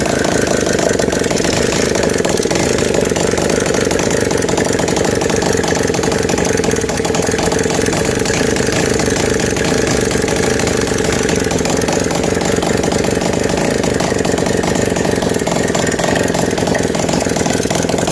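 A Kymco Visar scooter engine converted to 54mm big valves idles loudly and steadily up close, a constant buzzing drone with a fast, even pulse throughout.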